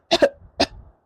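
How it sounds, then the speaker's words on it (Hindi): A person lets out short coughs, two quick bursts followed by a third after a brief pause, close and clear with no talking around them. "मुझे तो इनकी खांसी सुन के भी डर लगता है।"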